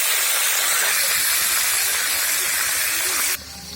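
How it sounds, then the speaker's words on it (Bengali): Tilapia rubbed with turmeric and salt drops into hot oil in a wok, giving a loud, dense, continuous sizzling hiss that fills the whole stretch and eases slightly at the end. "চলেন মাছটাকে ভেজে নিচ্ছি"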